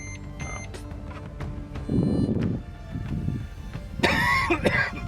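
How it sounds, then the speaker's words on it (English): A few harsh coughs and throat clearing close by, with a short electronic beeping tone in the background. "I had to cough about halfway through that sentence"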